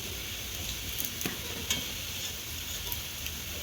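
Green chillies and curry leaves frying in a pan with ginger-garlic paste, a continuous close sizzle broken by a few light scrapes and taps of stirring, with no voices.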